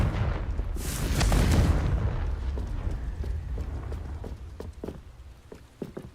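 Confringo blasting spell cast in Hogwarts Legacy, a single heavy boom with a rumbling burst near the start that fades into a low tail, followed by scattered light impact clicks.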